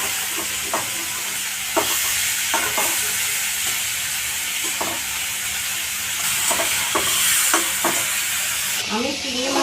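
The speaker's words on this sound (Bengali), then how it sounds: "আগে আমি চিংড়ি মাছগুলো ভেজে উঠিয়ে নেব।" Prawns frying in hot oil in a wok, a steady broadband sizzle with scattered clinks and stirring scrapes close by throughout.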